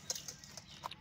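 A chicken being prepared for slaughter at a rural Bangladeshi home with a clay stove gives a few short clucks, brief and moderately near over quiet background noise.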